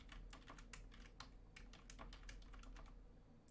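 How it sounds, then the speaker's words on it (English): Rapid typing on a computer keyboard, with a steady run of close, crisp key clicks over a low background hum and no talking. "Yeah, I'll type it for you guys."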